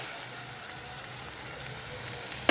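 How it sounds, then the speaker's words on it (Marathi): Tomato puree and masala sautéing in a pan for anda masala, a steady close sizzle and hiss throughout with a brief stir clatter at the end. "आता ह्याच्यामध्ये टोमॅटो प्युरे टाकू"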